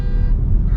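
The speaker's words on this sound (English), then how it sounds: "I'm getting honked at." A short, loud, steady car horn blast from another driver honking at a Tesla, with a buzzing harmonic tone over low road rumble, heard from close by.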